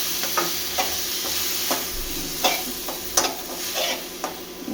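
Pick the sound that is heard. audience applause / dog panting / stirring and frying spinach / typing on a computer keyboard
stirring and frying spinach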